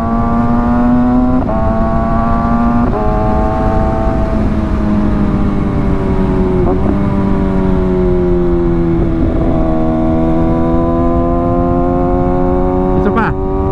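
A 2022 Kawasaki ZX6R motorcycle accelerates hard while quick shifting up through the gears, its loud, close engine whine climbing in pitch and dropping sharply at each rapid clutchless upshift, several shifts in a row.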